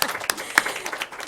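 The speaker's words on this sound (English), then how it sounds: "you guys can all clap for yourselves." Audience clapping at a school board meeting in Marion County, a short burst of scattered applause with a few sharp hand claps standing out, fairly close and steady throughout.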